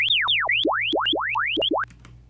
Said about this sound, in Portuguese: Aqui ele é um conjunto de chirps